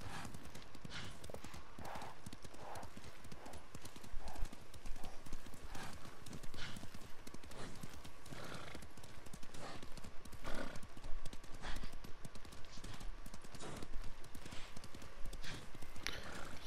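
Horse hooves clip-clop in a steady rhythm as a rider travels in Ghost of Tsushima, a continuous close gait with an occasional whinny over faint background ambience.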